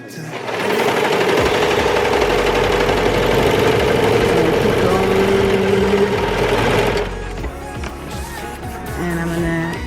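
Brother 1034DX serger stitching a baby romper seam runs loud and steady for about seven seconds, then stops, leaving quieter handling noise and a brief soft whir near the end.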